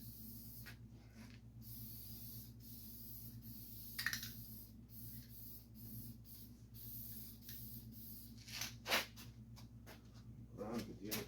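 A spray can of primer dusting the body of a chopped 1937 Pontiac, heard as short, faint hissing bursts over a steady low hum in a quiet workshop.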